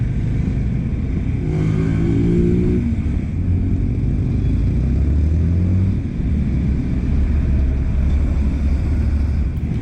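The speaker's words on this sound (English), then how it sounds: "A road full of trucks and buses, and the motorcycles are just trying to squeeze between them" Heavy city traffic in Bogota, with trucks, buses and motorcycles squeezing between them, forms a loud, continuous low rumble of engines. A motorcycle revs up partway through. No one speaks.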